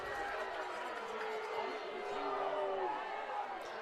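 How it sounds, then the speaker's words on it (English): A high school football crowd in the stands at a Raleigh County game, Shady Spring Tigers against Independence Patriots, roars steadily in a broad wash of booing and shouting that stays loud and unbroken throughout, with scattered voices rising out of the noise. "The crowd does not like this call."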